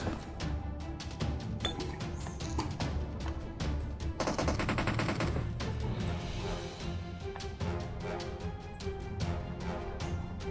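Gunfire during a firefight in the mobile game PUBG Mobile, with rapid bursts of automatic shots and scattered single cracks over a dense, steady game soundscape, and no talking.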